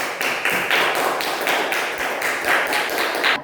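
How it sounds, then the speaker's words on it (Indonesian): A classroom group claps together for a presenting group, a steady patter of hands that is close and fairly loud, lasting a few seconds with no talking. "Beri aplaus untuk kelompok 1"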